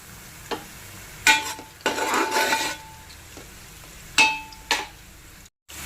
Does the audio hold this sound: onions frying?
yes